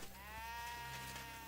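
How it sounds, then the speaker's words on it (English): A sheep bleats in a game setting during a knighthood quest, one sustained wavering bleat filling the short moment, clear and close. "Yeah, I've heard sheep before."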